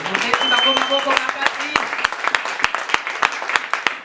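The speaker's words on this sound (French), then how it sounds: "L'église de Dieu va acclamer très fort pour eux." A church congregation claps loudly and enthusiastically during a consecration service, dense rapid applause with sharp individual claps while a voice speaks over it at the start.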